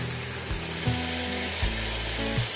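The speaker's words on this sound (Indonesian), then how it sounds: "Lanjut kita tumis lagi bumbu halusnya." Ground spice paste sautés in a pan with a loud, steady sizzle. Several low, drawn-out scraping strokes from stirring run over it, alone without talk.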